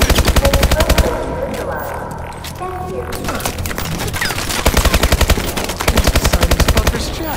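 Rapid automatic gunfire rattles in the Call of Duty Exo Zombies video game, sustained bursts of loud shots with short breaks, while voices call out over the shooting.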